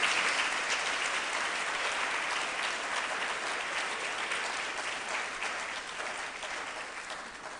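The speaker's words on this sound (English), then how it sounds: "Let us therefore give him a round of applause" Sustained applause from an audience at a humanities lecture, a dense wash of many hands clapping at an even level that fades slightly toward the end, with no voices over it.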